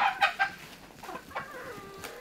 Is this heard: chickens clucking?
yes